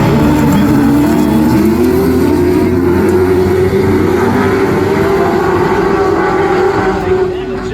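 Class 10 autograss race cars at a men's national meeting launch off the line and race, several engines blaring loud and close in a continuous roar that shifts in pitch as they accelerate.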